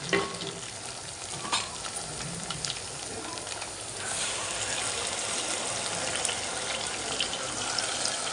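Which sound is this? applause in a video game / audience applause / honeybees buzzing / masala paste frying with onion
masala paste frying with onion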